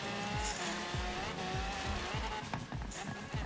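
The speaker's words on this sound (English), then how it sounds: "I skidded along the damn track" A hypercar skids along the track in the video game Forza Horizon 3, its engine roaring steadily under a drawn-out squeal of tires. Loud, close racing noise fills the scene without pause.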